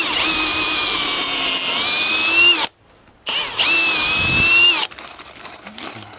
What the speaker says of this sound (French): c'est une mèche qui était fournie avec le pack visseuse